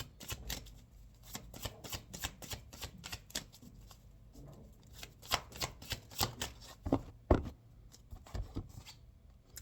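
Tarot or oracle cards are shuffled by hand in rapid riffling bursts, close and crisp, with a few louder slaps as the deck is handled before a card is drawn.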